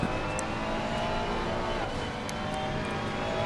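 A GT race car engine drones steadily on a qualifying-lap replay at Barcelona in Assetto Corsa Competizione, a loud continuous roar with no talk.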